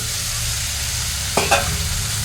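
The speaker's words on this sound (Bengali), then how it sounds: "এবার এর সাথে আমি এই মাছের টুকরোগুলো ভাজা মাছের টুকরোগুলো দিয়ে দিচ্ছি" Fried fish pieces drop into a pan of spice paste over a low sizzle, a short scraping stir with a quick double clatter midway, then sizzling carries on.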